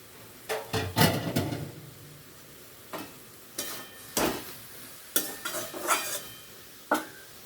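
A spoon scrapes and stirs chopped banana flower with green chilies in a cooking pan, making about ten irregular close scraping strokes with a faint sizzle and short quiet pauses between them.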